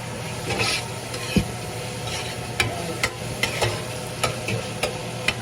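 Onion, garlic and ginger sautéing in a pan give a low, continuous sizzle, broken by sharp scrapes and taps of a utensil stirring at irregular intervals.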